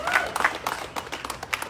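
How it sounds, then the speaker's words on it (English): Applause from a crowd at a protest against big tech in San Francisco, a steady patter of many hands clapping at moderate distance, mixed with some voices. "Please give a round of applause"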